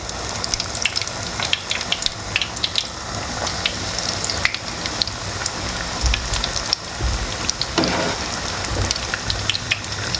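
Battered fish frying in hot oil: a steady, dense crackling sizzle with scattered louder pops, close and continuous, no talking.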